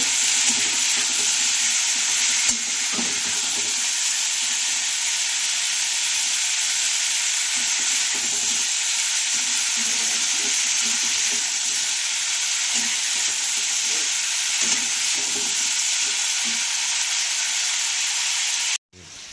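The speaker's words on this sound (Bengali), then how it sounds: "ফুলকপিটা দেখো লাল লাল করে সুন্দর করে ভেজে নিয়েছি" Cauliflower pieces fry and get stirred in hot oil in a pan, a loud, continuous sizzle with steady hiss and scraping stirs, alone with no talking, ending abruptly.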